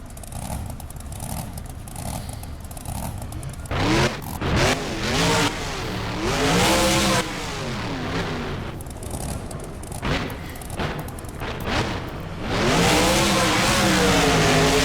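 Alien Invasion monster truck roars loudly with repeated revving surges and rising engine pitch, near and continuous, with booming crowd-arena ambience and no speech.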